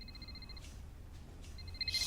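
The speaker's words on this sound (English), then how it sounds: "That's just the normal ringing noise." Electronic telephone ringing indoors in a London flat, a faint repeating warble in two bursts separated by a short gap, heard alone.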